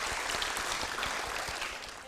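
Audience applause during an Indonesian TV talk programme, a dense, steady wash of many clapping hands filling the whole stretch with no voices.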